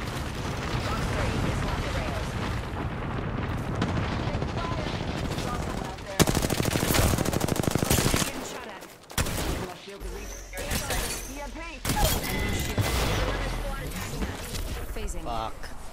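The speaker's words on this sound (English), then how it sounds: "Airstrike." Apex Legends airstrike bombardment, heavy continuous rumbling blasts and rapid gunfire filling the scene, with a player talking over the din.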